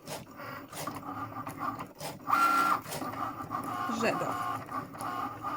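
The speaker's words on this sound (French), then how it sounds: "on appuie sur le petit C de Cricut pour lancer la découpe" A Cricut Maker cutting vinyl whirs and buzzes through repeated back-and-forth carriage passes, with a brief motor whine in the middle and a voice speaking over it once.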